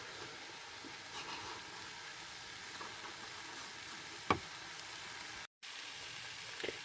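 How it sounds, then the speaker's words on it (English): Meat and mushrooms frying in a pan inside a campervan, a faint, steady hissing sizzle with a couple of small pops and a brief dropout, no talk. "Right, that's everything frying off in there."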